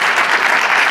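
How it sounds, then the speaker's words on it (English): Conference audience at a Humans to Mars summit breaks into loud, dense applause, a continuous wash of many hands clapping close by. "Give Hank another big round of applause."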